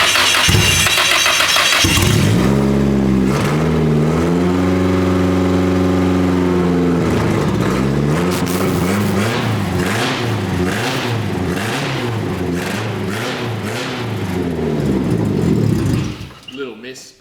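Four-cylinder Nissan Skyline engine during a teardown, starting up, then idling and revved repeatedly in swelling and falling waves, loud and close before cutting off at the end.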